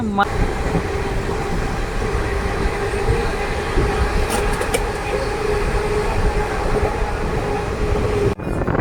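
Sai Nagar Shirdi Express rolling along the tracks near Warangal, a steady close rumble and rattle of the moving train throughout, with a brief sharp dropout near the end.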